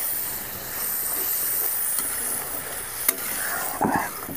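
Chilli powder masala being stirred in a hot pan gives a steady close hiss and sizzle, with a few scraping strokes from the stirring toward the end.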